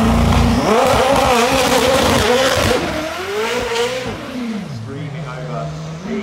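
A race car launches from the start line of the Goodwood hillclimb, its engine screaming loud and close as it revs up and accelerates away, the note falling as it pulls off.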